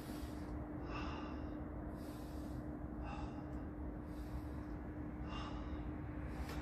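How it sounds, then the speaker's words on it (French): Rhythmic breathing in and out during a gentle morning stretching routine, with repeated soft breath bursts about once a second over a steady background hum. "Inspire devant, expire sur le côté."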